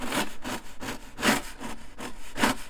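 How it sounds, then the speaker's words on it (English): Rhythmic swishing of wire brushes sweeping across a snare drum, about two strokes per second, close and steady with a slightly scratchy texture. "I'm using these wire brushes and I almost want them to kind of sound like they're like caught"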